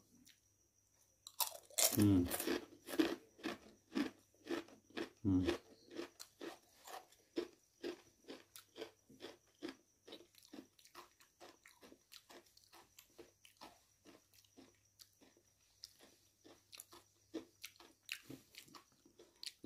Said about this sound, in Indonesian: kalau dimakan itu rasanya kayak makan apa ya kriuk-kriuk